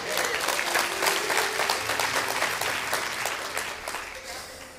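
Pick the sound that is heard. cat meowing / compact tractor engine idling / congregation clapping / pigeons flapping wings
congregation clapping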